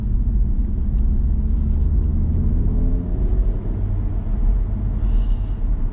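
Audi RS3 hot hatch on a test drive along a winding road, its engine a loud, low interior rumble that dips and swells as it downshifts, steady and close throughout with no talk.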